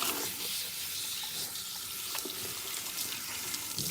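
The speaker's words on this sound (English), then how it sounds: "So you want to make sure that you really rinse out the protein out of your hair." Tap water runs steadily and splashes while protein treatment is rinsed out of hair, a continuous close hiss broken by uneven spatters.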